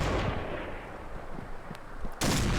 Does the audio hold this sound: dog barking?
no